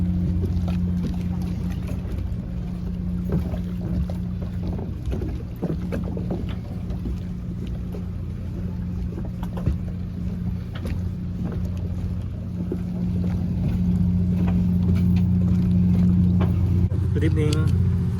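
Steady low engine drone and wind of a boat at a coastal resort in Mariveles, Bataan, as passengers board, a continuous rumble with faint background voices.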